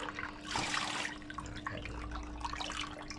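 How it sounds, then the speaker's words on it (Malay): Water being scooped out of an aquarium fish tank housing a channa, with a splashy pour and trickling, dripping water at close range that settles into quieter gurgles. "Kita cedok air. Kita ambil sikit."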